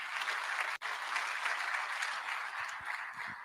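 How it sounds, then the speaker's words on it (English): An audience at a medical college fellowship induction ceremony in Ghana claps in a steady, dense wash of many hands, moderately distant and unbroken apart from a brief dropout. "Keep clapping, keep clapping, keep clapping."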